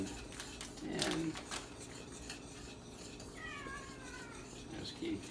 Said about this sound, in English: There's Kitty Cat.